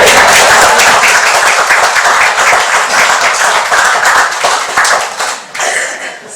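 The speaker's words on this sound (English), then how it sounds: "I think he deserves a round of applause." Wedding guests applaud, a loud, close burst of many hands clapping that holds strong and then thins into scattered claps near the end.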